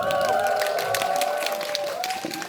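Crowd of fans cheering and clapping at a film screening event at Lotte Cinema World Tower, a steady broad roar of voices with scattered claps filling the room, loud and close throughout.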